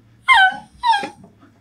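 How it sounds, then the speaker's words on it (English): A stressed dog in The Last of Us episode whimpers twice, two close, high, wavering whines separated by a short pause. "That dog is stressed."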